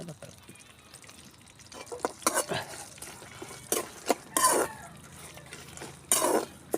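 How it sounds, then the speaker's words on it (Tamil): Ingredients for lemon rice are sautéed in a pan over a village fire under a low sizzle, with loud scraping stirs and metal clatter in bursts. Faint voices can be heard. "எல்லாத்தையும் சேர்த்து நல்லா வதக்குவோம்."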